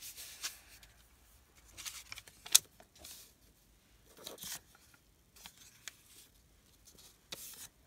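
Scissors cut through paper for a junk journal page, making quiet, intermittent snips and rustles spaced out over several seconds without speech.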